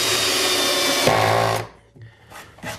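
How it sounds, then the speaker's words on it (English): A Bosch power drill drives screws into a wooden chicken coop nest box, giving a loud, close, steady whir for about a second and a half that bogs down as the screw seats, followed by a few faint knocks. "So the nest box now just screws in place."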